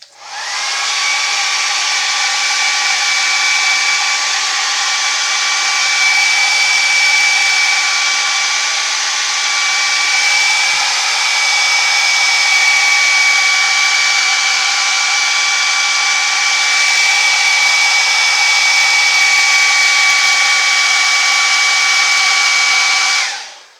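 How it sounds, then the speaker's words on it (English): A hairdryer runs steadily and loud for the whole stretch, drying paint on a carved wooden sports bear, with a constant whining motor hum and airy rush, no voices, cutting off abruptly at the end. "going to hit that hairdryer again for a few seconds"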